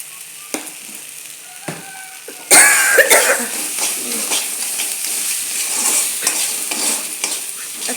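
Potato and bitter gourd stir-fried with salt start with a few spatula taps, then a loud sizzle bursts in as stirring goes on, with scraping throughout and a cough near the start.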